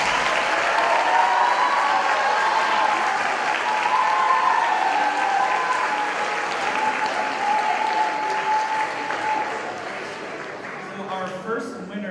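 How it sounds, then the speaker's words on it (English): Sustained applause from an audience at a high school instrumental showcase honoring two teachers, steady and full for about ten seconds before thinning toward the end, with a few voices faintly mixed in. "I think the two teachers here need a round of applause now."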